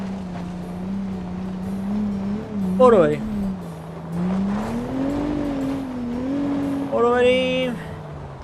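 A Mercedes-Benz car engine hums steadily at low pitch, then rises twice in short revving surges as the driver accelerates over rough ground, with a person speaking briefly inside the cabin.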